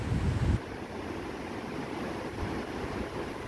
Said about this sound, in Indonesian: Ini juga persis di sebelah musola ini sungai yang lumayan besar sekali.